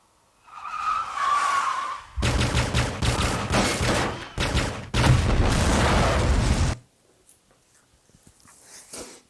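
Loud bursts of rapid gunfire crackle over roaring engine and screeching tires in a dense action sequence, then cut off abruptly to near silence.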